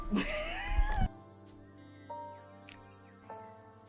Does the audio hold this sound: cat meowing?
yes